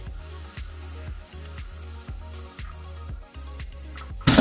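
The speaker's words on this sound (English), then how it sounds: "I'm going to spray them a little bit." A spray bottle mists water over cat grass seeds in a bowl, giving about seven short, evenly paced hissing spritzes, close and clear, followed by a louder rustle at the end.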